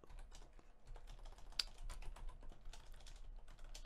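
Close, quick clatter of keys on a computer keyboard while commands are typed on an Ubuntu system, a brisk irregular run of clicks with no talking.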